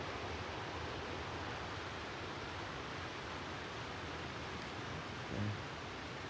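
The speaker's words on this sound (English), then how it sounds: "You can hear that water." Mountain stream flowing near a wilderness campsite in the evening, a faint, steady broadband rush of water with no pauses, heard alone apart from one brief soft bump near the end.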